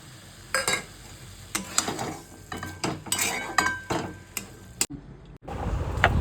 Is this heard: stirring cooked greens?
yes